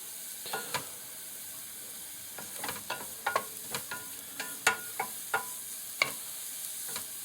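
Noodles frying on an electric hot plate, a steady soft sizzle with scattered sharp crackles and pops spread throughout, close and fairly quiet, no voices.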